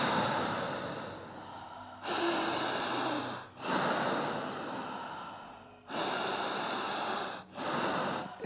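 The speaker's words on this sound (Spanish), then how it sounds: "Inhalo y exhalo con fuerza." A studio exercise of forceful, deep breathing: long, loud, rushing inhales and exhales alternate in a steady rhythm, each breath lasting a couple of seconds and heard up close with no talking.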